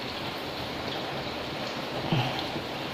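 Light drizzle falling outdoors, a soft steady hiss of fine rain with no distinct drops and a brief faint knock near the end.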